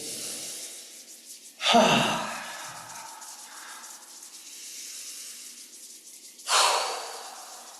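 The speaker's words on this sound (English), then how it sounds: "a nice big deep breath in" Two deep, audible breaths taken during a qigong exercise, the first a loud airy inhale and the second a shorter one, each followed by a softer hissing exhale, close to the microphone with no talking.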